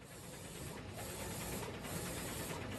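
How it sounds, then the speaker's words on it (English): A DTF printer lays CMYK and white inks onto film, giving a steady mechanical hiss and whir with faint rhythmic carriage passes, continuous and moderately close. "You will see the cyan, magenta, yellow, and black inks will print first,"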